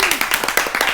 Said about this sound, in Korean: 박수 좀 부탁합니다